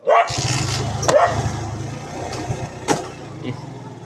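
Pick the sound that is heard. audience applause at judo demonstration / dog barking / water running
dog barking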